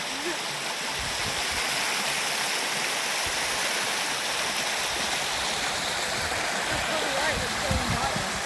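Steady rushing flow of a river in a nature reserve, a continuous broadband wash of water with small gurgles near the end, no talking heard.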